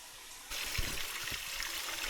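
Cold mountain stream water trickles and splashes softly nearby while someone scoops a handful to wash their face, a few faint low splashes over the steady flow.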